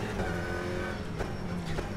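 A steady, muffled Alpine A110 GT4 race car engine in the video game rFactor 2 drones continuously, with slight shifts in revs and no talking.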